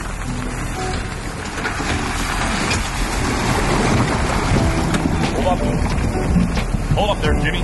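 Steady boat motor rumble runs under heavy wind buffeting on the water on a bass-fishing trip at the Mexican border, with a voice speaking faintly in the mix.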